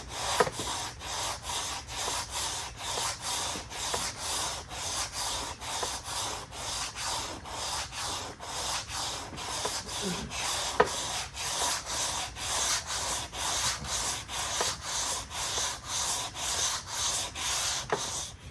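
A linear sanding block rubs back and forth across a cracked car dashboard repair, a steady, close, rhythmic scraping with evenly spaced strokes and no talking.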